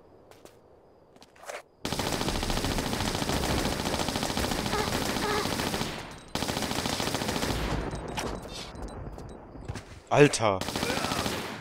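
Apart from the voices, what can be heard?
Uzi gunfire in the video game Tomb Raider IV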